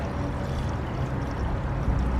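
Coolant pouring from a jug into the radiator of a 2008–2013 Nissan Rogue, a steady close liquid gurgle and trickle that runs on without a break.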